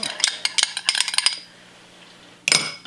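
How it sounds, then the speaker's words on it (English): A whisk clinks rapidly against a bowl while beating an egg, a quick run of bright metallic taps that pauses and then briefly resumes, close and clear. "breaking an egg into a separate bowl, and then mix that up"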